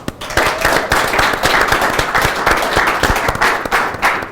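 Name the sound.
applause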